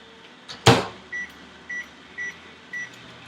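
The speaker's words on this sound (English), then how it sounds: "I'm going to go ahead and put it in the microwave for another 30 seconds" A sharp clunk followed by a microwave humming softly while melting soap base, with four short evenly spaced beeps sounding over the low drone.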